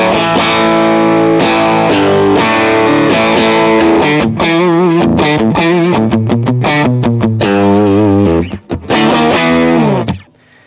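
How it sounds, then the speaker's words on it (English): An electric guitar plays through the AC30 amp model of a Line 6 Helix with a touch of distortion, loud and continuous with sustained chords and then choppier strummed notes before the sound cuts off. "I've just got like the Tema here, which is just adds a little bit of distortion to the tone"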